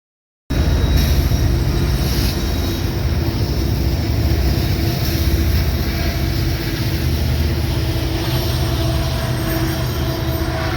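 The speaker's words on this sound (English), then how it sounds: "I can hear the traffic roar from this distance." Traffic roars from a distance, heard from a mountain trail in the southern San Gabriels, a loud, steady broadband rumble that starts abruptly and holds unbroken to the end.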